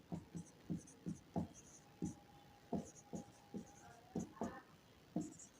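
Pen writing a geometry proof by hand on paper in a class 9 maths lesson, rhythmic scratchy strokes in short regular bursts, close and fairly quiet.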